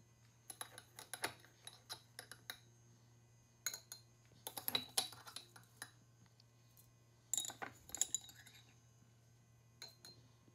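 Herbs spooned into a glass mason jar of olive oil. Quiet, scattered clinks and taps of metal against glass come in small clusters over a faint, steady hum.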